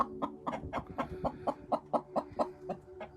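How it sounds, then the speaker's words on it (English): Chickens cluck in a quick, steady run of repeated calls with a faint tonal hum behind them, close by on a farm. "The chickens are calling you."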